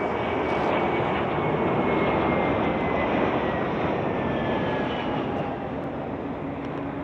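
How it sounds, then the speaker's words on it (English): An airliner landing at Las Vegas airport, a loud, sustained engine roar with a whining tone that sweeps slowly as the plane passes close overhead, without voices. "All right, the plane is starting to come in."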